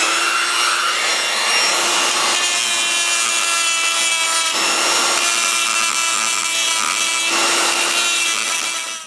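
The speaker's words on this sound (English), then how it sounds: "I think it's an 80 grit drum barrel on the Dremel" A Dremel with a coarse 80-grit sanding drum grinds curb rash off a W126 Mercedes-Benz S-Class wheel, giving a loud, continuous high-speed whine with abrasive scraping. The pitch stays fairly steady, with brief dips every few seconds as the tool shifts.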